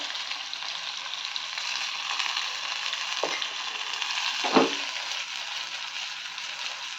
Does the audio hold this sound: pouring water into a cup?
no